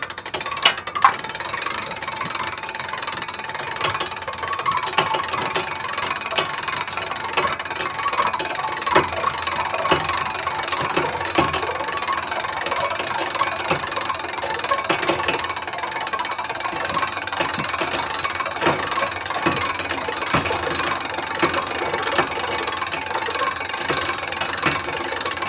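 Manual ratchet crank raising the mast of a mobile high power speaker array, a steady run of close mechanical clicks and pawl ratcheting lasting throughout, with no voices.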